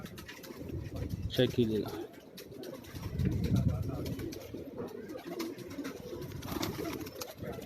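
Pigeons cooing on a rooftop in Karachi, soft low repeated coos close by, with someone talking over them.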